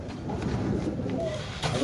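Pigeons at a pigeon farm give soft, repeated low cooing notes, close by and fairly quiet, over a light background hum.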